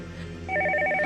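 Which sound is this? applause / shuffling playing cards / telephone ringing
telephone ringing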